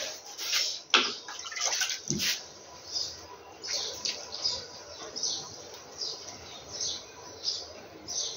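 Water poured from above onto dried-out tomato plants in a garden, a soft splashing trickle with a short thud early on, while birds chirp repeatedly in the background.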